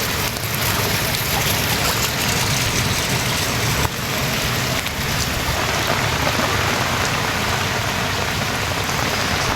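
Heavy rain pours during Cyclone Fengal at a residential school in Tiruvennainallur, Villupuram district, where floodwater has entered the grounds, a dense continuous roar with no breaks and no voices.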